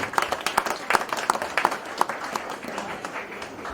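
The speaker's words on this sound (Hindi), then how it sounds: "हम जोरदार ताली से दोनों परिवार को धन्यवाद दें" Wedding guests applaud loudly, a dense run of clapping that holds steady throughout with no voices standing out.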